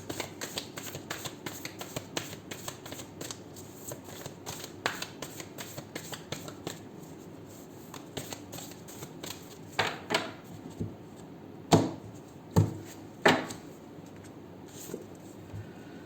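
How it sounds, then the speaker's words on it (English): Oracle cards from a Moonology deck shuffled in quick riffling bursts, close by, followed by a few sharp slaps and snaps as the deck is squared. "after 3 shuffles"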